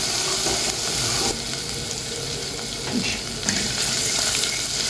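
Garlic and dried coriander frying in a pan on the stove for Egyptian koshari: a continuous close, crackling sizzle with soft stirring scrapes and no speech.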